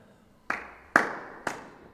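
Three sharp hand claps, spaced about half a second apart, ring out moderately loud in a quiet room, each with a short fading tail; no one speaks.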